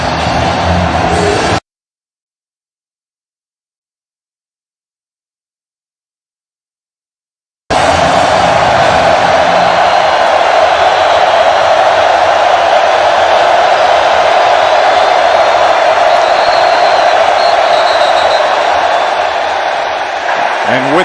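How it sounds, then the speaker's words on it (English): A packed stadium crowd roars steadily at the 2021 Arkansas vs Texas college football game on a third down. The loud, sustained noise runs under a commentator talking, after a stretch of silence near the start. "now he's got to deal with this crowd again"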